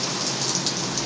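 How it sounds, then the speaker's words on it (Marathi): Heavy monsoon rain in Konkan pours down in a dense, continuous hiss, loud and close, with no voices over it. "बघा कोकणातला पाऊस"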